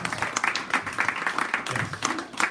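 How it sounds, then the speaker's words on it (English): An indoor workshop audience applauds for a person being honoured, a steady patter of many hands clapping at moderate volume for a couple of seconds. "Everybody give her a big hand, big round of applause."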